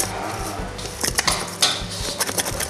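Sliced cucumber with sugar and vinegar rattles and clinks inside a container as it is shaken, a brief series of close, uneven knocks and sloshes.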